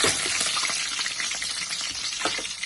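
Curry leaves crackle and sizzle in hot oil for tempering, along with mustard seeds, for a drumstick pachadi; a steady loud broadband hiss with a few sharper pops, no voices.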